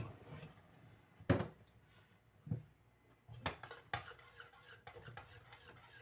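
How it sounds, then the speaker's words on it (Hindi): A spoon stirring tea in a metal pot, a few sharp clinks and scrapes against the pan at irregular intervals, close and fairly quiet with faint kitchen background. "अब ना थोड़ा मिक्स कर लो"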